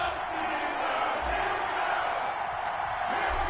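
A stadium crowd roars ahead of a Green Bay Packers versus Pittsburgh Steelers matchup in an EA Sports football video game, a dense, steady wash of cheering that continues throughout.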